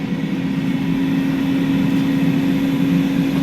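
An air fryer set to 390 degrees cooks sausage, giving off a steady, close whirring hum with a constant low drone and no change in pitch throughout.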